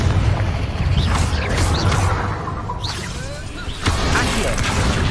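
A Confringo fire spell blast in Hogwarts Legacy, with booming bursts and whooshing sweeps over constant loud game noise and mechanical clatter, several hits through the stretch.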